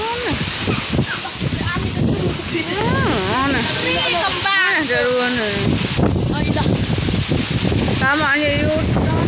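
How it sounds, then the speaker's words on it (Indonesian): Strong wind in Lombok buffets the microphone with a loud, constant roaring rush while people talk excitedly over it. "di Lombok ada angin kencang"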